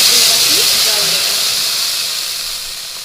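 Water is poured onto sugar in a hot pan while making raw mango chutney, releasing a loud, broad steam hiss that starts strong and slowly fades.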